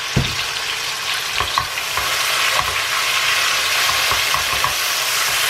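Chopped onions sprinkled with salt fry in a pan with a steady, close sizzle, broken by several scraping stirs of a utensil against the metal; no one talks.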